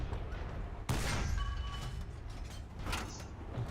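A sharp, loud gunshot cracks out over a steady rumbling background, followed by a lingering tail and a fainter later report.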